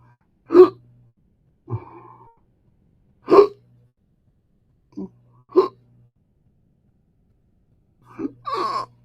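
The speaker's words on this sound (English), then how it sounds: "I've got weird hiccups I get all the time now." Sharp, abrupt hiccups from a man come one at a time with pauses of a second or two between them, about six in all, close and fairly loud against a quiet room.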